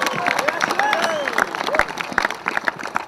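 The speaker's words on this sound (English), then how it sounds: "Jessie Stang, I think we all need to give her a round of applause" Crowd applause and cheering at a 2015 high school substate pep rally in Derby, Kansas, with scattered clapping and voices in the stands mixed with whooping over a busy gym din.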